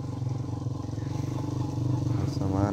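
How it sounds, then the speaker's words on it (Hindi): A motorcycle ridden over a rough forest road in Kashmir, its engine thrumming steadily and rising toward the end, with someone talking over it. "बहुत मुश्किल होता है यहाँ पे बाइक चलाना"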